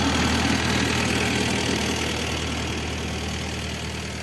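A crop sprayer's engine runs on a cotton field during spraying, a loud, steady mid-range drone that holds near and even throughout with no pauses.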